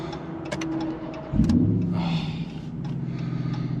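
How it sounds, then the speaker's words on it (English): A RAM TRX pickup truck's engine turns over and catches after a small refuel, with a sharp rise into a loud, steady low rumble that settles into a continuous idle, close by. "Now we just got to make sure that the truck actually starts"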